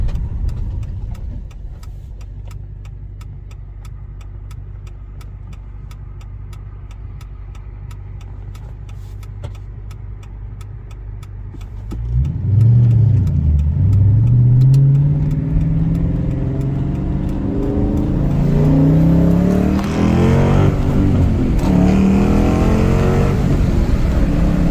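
A 2009 Challenger R/T muscle car engine idles with a low rumble, then revs up hard partway through, roaring and rising in pitch several times, loud and close.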